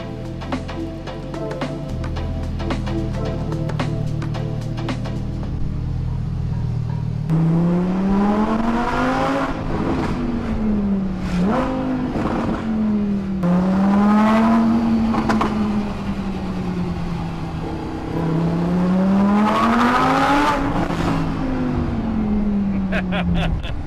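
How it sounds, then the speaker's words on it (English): A car engine revving and accelerating through several rising and falling sweeps, loud and close, with a rough idle at the start. "And this car sounds amazing."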